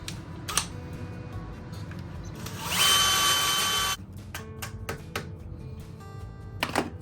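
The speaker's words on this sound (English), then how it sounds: "I'm going to start off by drilling out these rivets and removing this coupler." A power drill bores out rivets on a kayak motor coupler, one harsh, sustained whine of about a second, framed by scattered clicks and knocks from handling the part.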